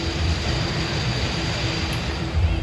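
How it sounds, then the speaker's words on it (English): A steady low mechanical rumble with a faint constant hum as a new Mindbender coaster train is hauled up the lift hill at Six Flags Over Georgia, continuous and fairly close. "New train going up the hill here."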